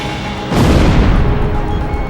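A missile strikes its target in the video game Ace Combat Zero, a single loud booming explosion that bursts suddenly and rumbles on, with its heavy low roar lingering afterward.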